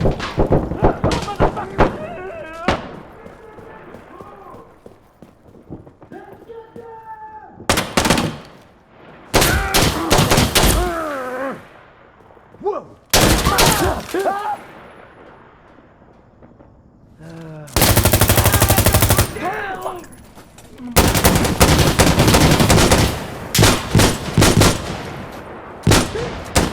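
Bursts of automatic rifle fire and single gunshots in the tactical shooter Insurgency Sandstorm, loud and close, arriving in several separate volleys with short gaps and voices shouting between them.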